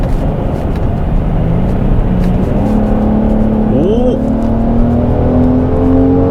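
A Genesis GV70 SUV in sport drive mode pulls hard from the cabin, its engine note climbing steadily with a rising tone, while someone talks excitedly over it.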